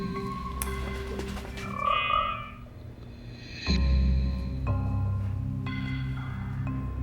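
A squeezable toy frog lets out croaking, squeaky calls over a steady low hum, with a brief tonal burst early on and a louder rough blast about halfway through.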